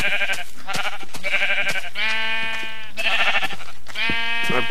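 Loud, close sheep bleats from the video game Minecraft, five or six wavering calls in quick succession with hardly a pause between them.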